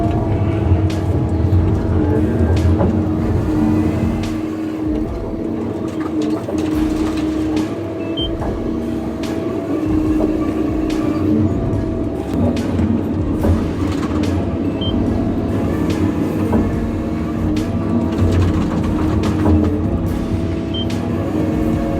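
The 1,500-horsepower Timberjack 10,000 XT cuts and sorts logs with a loud, continuous heavy engine drone, laced with repeated knocks and clatters throughout.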